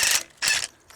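A Makita 3/4-inch impact wrench zips off nuts in two loud, close bursts of rapid hammering, with a short pause between them and a faint tap at the end.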